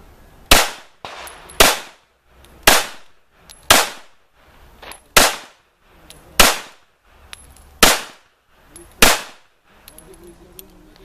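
A Girsan MC1911 pistol fired outdoors, eight sharp loud shots spaced about a second apart, each with a quick decaying echo, with faint background noise between them.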